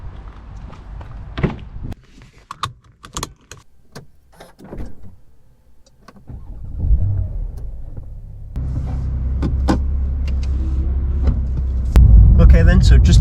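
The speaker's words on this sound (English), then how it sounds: "see if we can get a little bit of engine noise in there so that people can see what this car sounds like without the sports exhaust on" A Porsche 992 without the sports exhaust starts off on the road, with door and cabin handling sounds giving way to a steady low engine drone and road rumble that grows louder toward the end, with talk at times.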